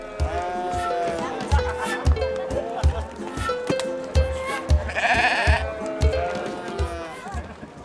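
Sheep bleat repeatedly at a busy weekly livestock market in Kyrgyzstan, several loud nearby calls mixed with crowd chatter and people talking throughout.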